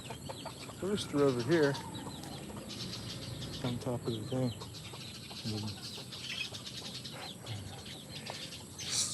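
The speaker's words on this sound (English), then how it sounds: "Okay, so got the rooster" Rooster perched up high outdoors in the Philippines gives a few clucking calls at moderate distance, mixed in with someone talking over steady background hiss.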